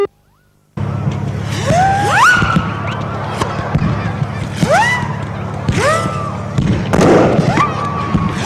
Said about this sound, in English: the International Sports Centre was illuminated by the spectacle of fireworks on a grand scale